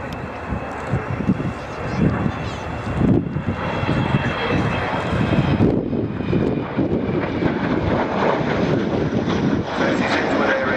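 Avro Vulcan XH558 delta-wing bomber flying at the Royal International Air Tattoo 2015, a loud, continuous rumbling jet roar that swells and holds steady throughout, with wind buffeting the microphone and a voice talking over it.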